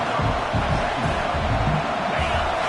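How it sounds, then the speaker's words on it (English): A packed stadium crowd roars steadily at a college football game at LSU against Mississippi State, a dense, continuous wash of cheering with no clear breaks. "Listen to the crowd energy here in the early going."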